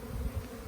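Honey bees buzzing during a spring hive inspection, a low close drone of many bees over under a second.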